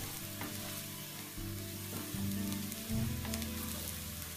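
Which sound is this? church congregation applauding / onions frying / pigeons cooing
onions frying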